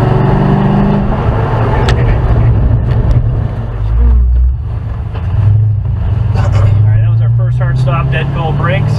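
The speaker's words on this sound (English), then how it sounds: "get up to like 70 and do a hard stop" A 2006 Corvette with a Mk60 ABS swap, Gold brake pads and A052 tires makes a hard ABS stop from about 70, loud road and engine noise under a running voice, with the engine pitch dropping as it slows.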